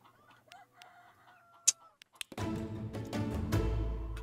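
Chickens cluck and a rooster crows at a chicken farm in the city-builder game Laysara Summit Kingdom, a few short calls over a soft start before a dense, steady bed of game ambience and music takes over.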